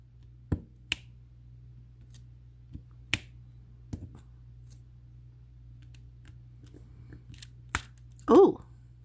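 A plastic diamond painting tray from Crystal Trays, used with wax, gives a handful of sharp, isolated clicks at irregular intervals over a quiet background, followed by a brief voice sound near the end.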